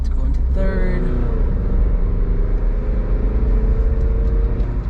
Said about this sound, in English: Hit these turns real quick in the Terios.